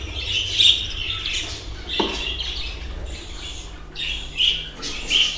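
Baby birds chirp and squawk close by in repeated shrill bursts, with a soft knock partway through and a low steady hum beneath.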